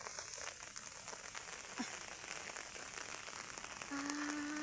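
Rain falls steadily outdoors during a fishing trip, a faint, even hiss of drops pattering on surfaces with no voices, continuing throughout.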